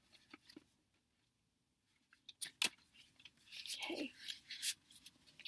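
Tarot cards shuffled by hand, a quiet run of soft papery riffles and taps that follows a near-silent stretch, with a brief spoken word mixed in.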